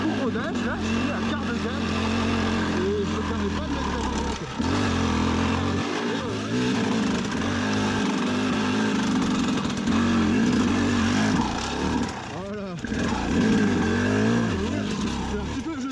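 A 2004 KTM 250 EXC motorcycle engine runs at quarter throttle during break-in, a loud, steady buzzing drone with slight rises and dips in pitch, close up, with a person talking over it.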